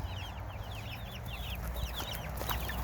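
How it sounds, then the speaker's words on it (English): A chicken clucks in quick, agitated bursts while being chased and caught near a coop, the calls fairly close and repeated throughout over a soft outdoor background. "It is literally an adventure trying to catch a chicken."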